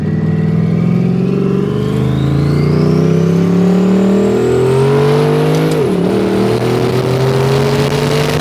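A street-driven Cadillac CTS-V with an 1800hp twin-turbo 427ci LSX on 40 psi revs loud and close, its engine note climbing in pitch with a thin turbo whine before a brief dip at a gear shift, then pulling again.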